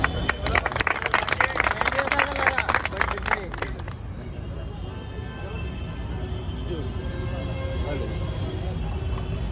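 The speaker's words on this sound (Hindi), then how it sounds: "बहुत बहुत हमारी तरफ से इनके लिए तालीम दें" An audience at a protest rally against the contract labour system claps in a burst of applause for about four seconds, then it fades into a crowd murmur and scattered voices.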